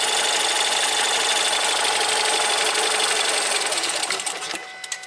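Fast, ringing mechanical chatter from a Ford EcoBoost engine idling rough with a fault, loud and steady before fading and cutting out as the engine stalls once a solenoid is unplugged.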